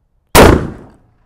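A single loud, sharp gunshot from a Smith & Wesson .460 XVR revolver, one round fired close by, with a sudden blast that rings and decays over about half a second into silence.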